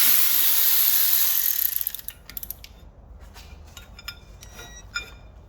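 A ratchet loosens the 12mm pins holding a brake disc on an Alfa Romeo 145. A burst of mechanical whirring gives way to a series of sharp metallic clicks and clinks, close and loud.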